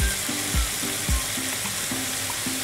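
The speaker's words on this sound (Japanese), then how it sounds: "豚肉の油におろしにんにくを炒めるって感じですよね。" Grated garlic sizzles steadily in rendered pork fat from browned ground pork, a continuous close frying hiss broken by a few soft stirring knocks, with no talk.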